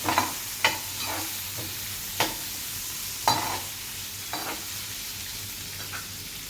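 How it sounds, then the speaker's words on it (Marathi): Turmeric being stirred into capsicum frying in a pan, with a steady sizzle and several sharp spoon scrapes and knocks against the pan at irregular intervals. "शिमला मिरचमध्ये टाकली की त्यानंतर टाकायचं आहे हळद, मिक्स करायचं"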